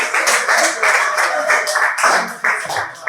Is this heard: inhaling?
no